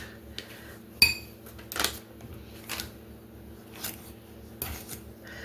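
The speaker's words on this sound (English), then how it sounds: "I'm going to use a fork to stir this up" A fork clinks and scrapes against a bowl while stirring butter, sugar and cinnamon, with sharp intermittent taps and soft scraping strokes at close range.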